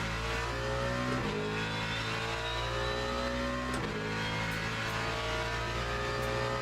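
A Mustang race car engine roars in the racing game Le Mans Ultimate, a loud continuous drone with rising revs and two sharp gear-shift drops, with no talking.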